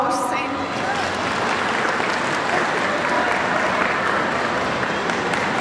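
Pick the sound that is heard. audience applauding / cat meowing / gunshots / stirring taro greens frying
audience applauding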